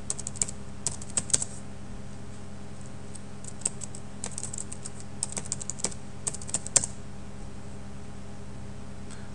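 Typing on a computer keyboard to log in to a website's administration section, a steady run of quick, light key clicks with occasional louder taps, close by and alone.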